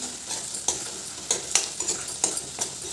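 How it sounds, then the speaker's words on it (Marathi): Asafoetida fries in hot oil in a pan for matki usal, a soft, continuous sizzle punctuated by several sharp scrapes and clinks of a stirring spoon at irregular intervals. "मधोमध तेल करून त्यात ते हिंग टाकले छान परतून घ्यायचं"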